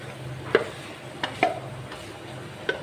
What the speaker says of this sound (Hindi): तो इस मसाले को अच्छे से गोश्त में हम मिक्स कर देते हैं